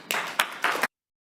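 A short burst of audience clapping is heard up close, about three quarters of a second of dense hand claps that stops abruptly and leaves silence.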